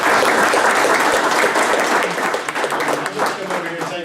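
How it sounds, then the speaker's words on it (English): A crowd at a town council meeting breaks into loud, sustained applause for law enforcement officials, dense clapping filling the space and slowly thinning toward the end. "Let's all give our law enforcement officials a round of applause."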